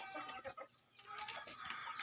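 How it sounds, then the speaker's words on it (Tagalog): Several backyard chickens cluck and murmur close by in a busy, continuous chatter, with a brief lull in the middle before the clucking picks up again. "ang daming manok dito"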